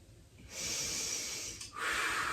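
Yoga breathing during a flow sequence: a long, audible breath through the nose, close and breathy, followed after a brief dip by another strong exhale.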